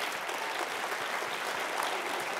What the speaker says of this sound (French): j'aimerais qu'il se lève et qu'on l'applaudisse